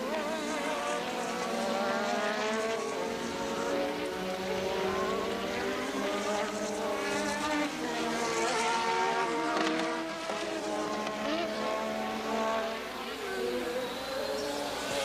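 Formula 1 cars at the 1986 Brazilian Grand Prix scream through a corner, several high-revving engines whining and shifting pitch as they pass one after another, loud and continuous, with commentary talk faintly beneath.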